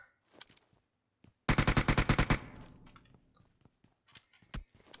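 Rapid automatic gunfire in the mobile battle royale game PUBG Mobile, a loud burst of about a dozen shots, with scattered single shots and thuds before and after.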